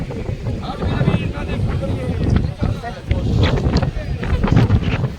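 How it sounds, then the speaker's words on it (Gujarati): Strong wind at a beach buffets the microphone with a constant low roar and gusty rumble, with faint voices underneath. "પવન બહુ આવે મસ્ત."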